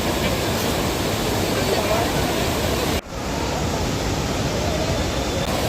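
Fresh flowing river water rushing near a waterfall at Chitrakoot, a loud, steady broadband roar that fills the whole stretch, briefly dipping once midway before resuming unbroken.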